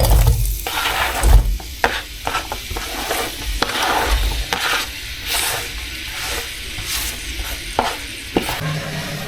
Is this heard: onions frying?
yes